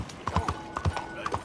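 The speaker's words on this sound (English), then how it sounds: "Rode into another horse." Horse hooves clip-clop in a steady riding rhythm in Red Dead Redemption 2, the hoofbeats close and moderately loud, with a faint whinny-like tone mixed in.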